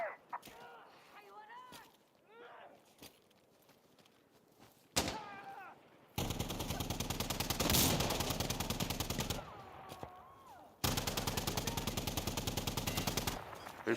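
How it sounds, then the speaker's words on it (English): Heavy automatic gunfire from the video game Insurgency: Sandstorm, played online on Xbox Series X, comes as loud sustained bursts in the second half, after scattered quieter shots and faint talk early on. "Who's shooting from where?"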